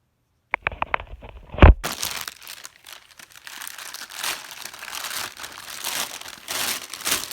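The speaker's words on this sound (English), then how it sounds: "Finally got the box. I'm gonna cut it out open." A cardboard box of car suspension parts being opened, a few sharp taps and a crack as it is cut, then continuous crinkling and rustling of packaging close by.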